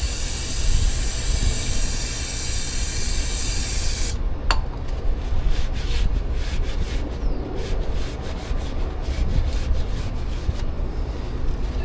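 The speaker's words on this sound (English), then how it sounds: "we just need to spray it off liberally and make sure the coating's gone" Cleaner sprayed liberally from a can onto a boat trailer's UFP/Dexter disc brake rotor, a loud continuous hiss that breaks into shorter sputtering bursts partway through, close up with no talk.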